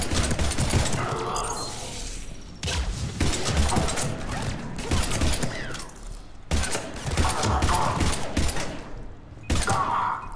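A grenade explosion and gunfire in the Mass Effect 3 shooter game during the Palaven mission come as heavy blasts and crashing impacts in repeated loud bursts, mixed with combat noise.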